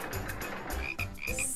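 Frogs croak in short repeated bursts in a children's counting song, close and clear, several overlapping calls across a brief stretch with no speech.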